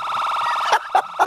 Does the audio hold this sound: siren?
yes